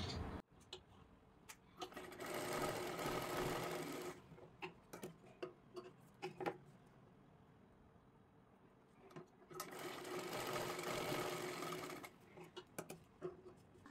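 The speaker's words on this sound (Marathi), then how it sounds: "पुन्हा एकदा फोल्ड करून इथे शिलाई मारून घ्यायची आहे" Sewing machine stitching folded fabric for a hair band at home, two sustained runs of rapid mechanical whirring separated by quieter handling clicks and taps, close and moderately loud.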